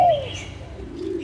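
Thai Van Hoa Do doves cooing close up, a loud falling coo followed by a softer low, drawn-out coo, no voices.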